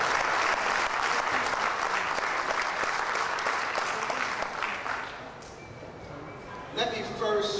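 A crowd at a Veterans Awareness Day gathering claps for the MC, a loud, steady round of applause that thins and fades toward the end as a voice and a brief tone come in.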